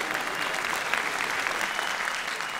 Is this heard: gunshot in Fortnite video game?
no